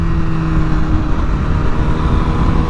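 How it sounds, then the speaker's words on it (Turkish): A motorcycle engine, a 1000 RR sportbike, revs loud and close as the throttle opens, holding a steady droning roar with no talk over it. "Gazı açayım mı açmayayım mı motorcuk söyle bakalım"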